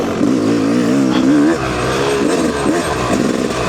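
A motorcycle engine carries a 200-pound rider along a singletrack dirt trail loop at Minooka Park in Jemison, Alabama, in summer. It drones loud and close, its pitch wavering as the throttle rises and eases.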